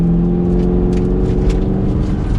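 A 2023 Chevrolet Camaro 2SS 1LE accelerates gently from fourth gear, its engine giving a close, steady droning hum with a smooth rise in pitch and no talking.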